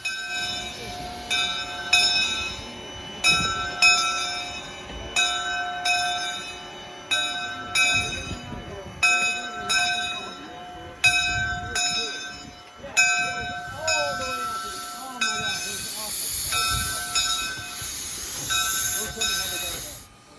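Narrow gauge steam locomotive number 9 rings its bell in a regular, repeating clang while moving, with loud steam hiss and rail noise running underneath.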